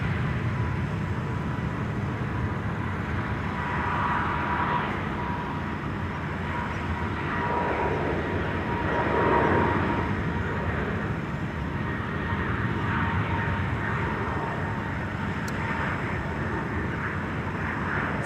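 A TUI Boeing 737 MAX 8 roars down the runway at Amsterdam Schiphol on its takeoff roll, a broad steady jet rumble that swells slightly midway, heard from a distance with no talk.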